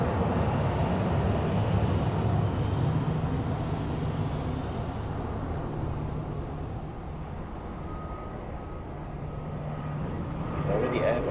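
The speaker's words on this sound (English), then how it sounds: "next aircraft's already departing. TAP Express to Bilbao" A TAP Express airliner departing Lisbon Airport on a flight to Bilbao, its steady broadband jet roar loud and sustained throughout, easing slightly midway, heard from the airfield with a commentator talking over it.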